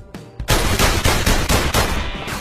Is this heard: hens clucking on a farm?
no